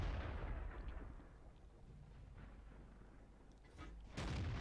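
An AT 15 tank destroyer's gun in World of Tanks lets out a heavy boom that decays into rumble, then another sharp blast near the end, fairly quiet overall with no speech.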